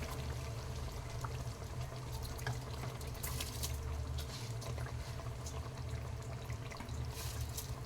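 Soaked seeraga samba rice is tipped into a pan for chicken biryani. It gives a faint, continuous soft pouring patter with small grainy bursts and no speech.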